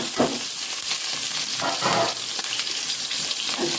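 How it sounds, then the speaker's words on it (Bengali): Eggplant cooks with two kinds of dried fish in a pan, giving a steady close sizzle and frying hiss with a few soft stirring scrapes and no talk. "আজকে আমি বেগুন রান্না করতেছি। শুটকি মাছ দিয়ে"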